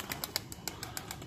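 Racing pigeon flapping its wings in flight during an evening release, a rapid rhythmic series of soft wingbeat bursts, fairly faint against a quiet outdoor background with no voices.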